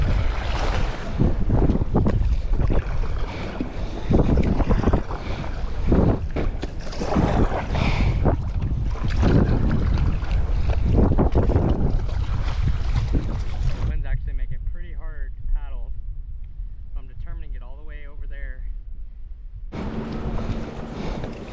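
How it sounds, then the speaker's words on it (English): Strong wind roars and buffets the microphone continuously, with water sloshing underneath from a paddleboard on Whiskeytown Lake and a voice speaking through the gusts near the end. "Way too windy."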